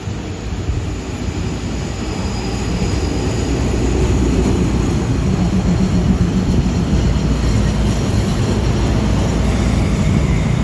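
Steady loud rumble inside a passenger train carriage on a journey across Thailand, a continuous low roar with faint rolling noise and no speech.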